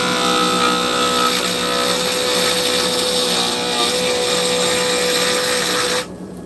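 Lathe turning square stainless steel tips round, a loud steady motor whine with a constant tonal hum and grinding texture that runs close and unbroken before cutting off abruptly near the end.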